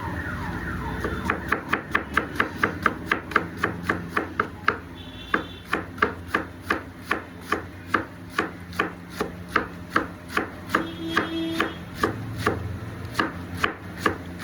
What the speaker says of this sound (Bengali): এইটা আমি চাউমিনের জন্য কাটছি